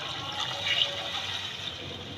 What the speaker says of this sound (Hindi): अब इसके अंदर मैं पानी डाल देती हूँ।